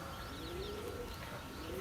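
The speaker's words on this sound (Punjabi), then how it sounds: "ਜਾਲ 'ਚ ਕਬੂਤਰ ਛੱਡੇ ਹੋਏ ਆ" Soft, low cooing of pigeons kept in a net enclosure, several birds murmuring continuously in the background with faint chirps, no talking.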